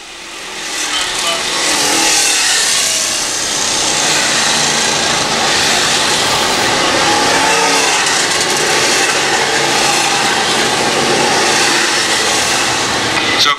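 Dirt track race cars roaring around USMTS Valley Speedway in a loud, steady wall of engine noise that swells early and holds, with a trackside announcer talking over it.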